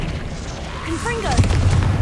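A Confringo blasting spell goes off in Hogwarts Legacy as a muffled, low boom with a crackling burst, partly covered by a voice speaking over it.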